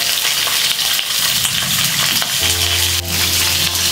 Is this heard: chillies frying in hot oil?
yes